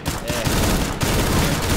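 Sustained automatic gunfire from the seventh weapon in CS:GO, a dense continuous rattle of rapid shots filling the whole stretch, loud and close, with a voice faintly present underneath.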